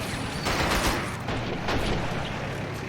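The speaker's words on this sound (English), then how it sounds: "Those 45mm guns are just zapping our troops." 45mm anti-tank guns fire in the 1941 battle game Men of War: Assault, with repeated dull booms over a dense, continuous roar of battlefield noise and no talking.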